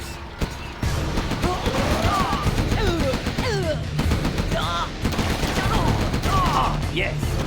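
Rapid gunfire from Chinese units in the C&C Generals Deluxe Edition strategy game, a dense continuous fusillade of overlapping shots with machine-gun bursts and crashes, loud throughout with brief unit voice barks mixed in.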